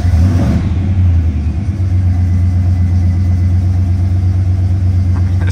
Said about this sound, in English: This is a cold start.